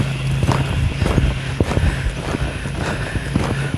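Hooves of a Mustang horse loping outdoors, a steady rhythmic clip-clop of repeated thuds close by over a low mechanical hum, with no talking.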